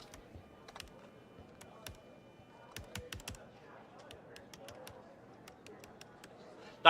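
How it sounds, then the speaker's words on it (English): Computer keyboard typing in a video game, with space and enter keys sounding distinct; irregular sharp clicks and bursts of keystrokes, close and fairly quiet, over a low background hum. "The space and the keys actually sound different,"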